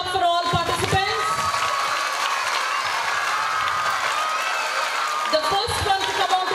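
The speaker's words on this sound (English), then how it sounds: "So a big hand clap for all participants." An audience at a school LKG and UKG fancy dress competition breaks into loud applause and cheering, with children shouting amid the clapping, which swells and carries on throughout.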